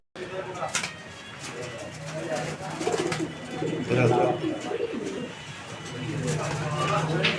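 Cream bar fancy pigeons, a double-bar Dauka breed, coo in a loft, low repeated cooing near and fairly faint under someone talking.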